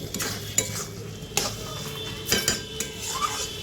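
Spoon scraping and stirring a poppy seed (posto) dish of ridge gourd and potato in a pan: several distinct scraping strokes at an uneven pace over a soft, steady sizzle, close by and clear.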